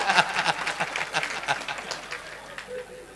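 Scattered clapping from a live audience at a Hindi comedy poetry recital (kavi sammelan), a quick burst that thins and fades over a few seconds, with some voices mixed in.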